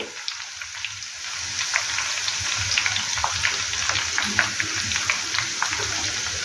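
Ingredients for a tomato pickle sizzle and crackle steadily in hot oil, a dense, continuous frying hiss with scattered sharp pops throughout, close and fairly loud with no voices.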